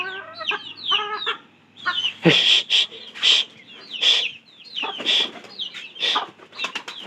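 Chickens clucking close by in a rhythmic series of short calls, with a louder squawk partway through, heard alone without talk.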